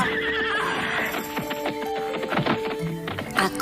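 A big white horse neighs loudly and close, a long shrill whinny followed by snorts and a few clopping hoof sounds.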